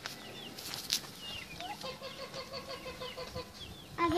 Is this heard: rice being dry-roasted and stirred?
no